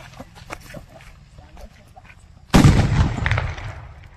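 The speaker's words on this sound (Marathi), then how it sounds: "सुयोग आहे ना हे सुतळी बॉम्ब लावून आहे ना त्याच्यावर कॅन ठेवणार आहे" A sutli bomb firecracker bursts under a can with one sudden loud blast that rolls into a long, noisy decay, after a stretch of quiet outdoor background with faint voices.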